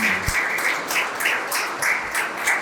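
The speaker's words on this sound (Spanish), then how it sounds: "Recibimos, ¿verdad?, con un fuerte aplauso al profesor Luis." An audience at a philosophy lecture at Colegio De La Salle in Santiago applauds to welcome a professor, a steady mass of clapping from many hands with a faint voice at the start.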